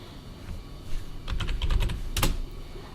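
Keys clatter on a computer keyboard as client details are typed, a quick run of close, crisp keystrokes that build into a busier burst, with a sharp clack near the end and no voices.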